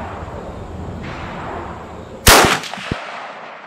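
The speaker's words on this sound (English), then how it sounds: "All right, first shot here." A single .30-06 rifle shot cracks out, sharp and loud, at an outdoor range after a steady low background hum. A brief ringing tail and a faint thump follow.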